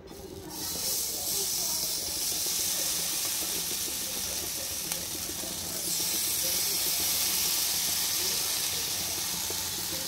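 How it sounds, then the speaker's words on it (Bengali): Paneer tikka sticks sizzle on a butter-brushed grill pan, a steady loud hiss that jumps in at the start and holds, swelling slightly midway, with no talk over it. "গ্রিল প্যানে সামান্য একটু বাটার ব্রাশ করে এই স্টিকগুলো সব ওর মধ্যে বসিয়ে দেবো।"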